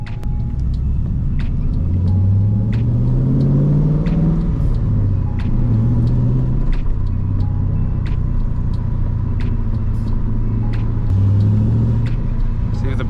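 A 1998-2002 Camaro or Trans Am Firebird V8 on the road, its engine rumbling loud and close with a few rising revs as it drives, steady throughout.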